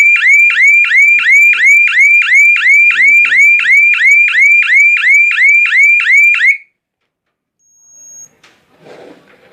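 A Securico wireless security alarm panel sounds a loud, rapid repeating electronic siren of rising chirps for about six and a half seconds, then cuts off, followed by a brief tone and faint rustling.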